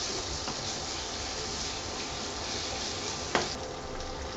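Garlic, green chili and ginger sizzle loudly in hot oil in a pan with a dense, unbroken hiss, and a single sharp clink of the spoon against the pan comes toward the end.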